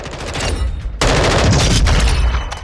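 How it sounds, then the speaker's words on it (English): A DDM4 V7 rifle in Modern Warfare II DMZ fires in a rapid, sustained automatic burst, close and loud, with shots rattling together into a dense continuous clatter and no talking. "Fast rate of fire. It's around 850 rounds per minute."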